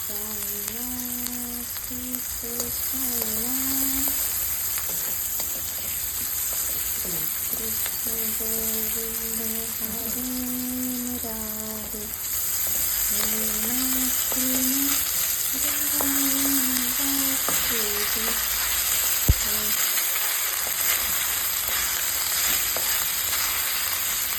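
Boiled wheat sev fries in oil in a pan, giving a constant loud sizzle that runs the whole time beneath a steady tonal hum, with occasional stirring clatter.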